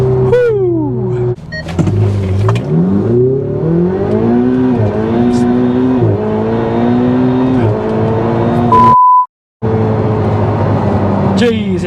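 A Ferrari 488 launches hard in a 0-60 run, its engine screaming up through rising revs with sharp gear changes between pulls, loud and close from inside the car, cut briefly by a silent gap near the end.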